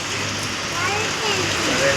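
Heavy rain pours down as a dense, even hiss, with a faint voice in the background.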